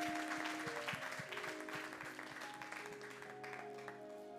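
A church congregation claps in a dense, steady burst of applause over sustained organ or keyboard chords, fading slightly as it goes on.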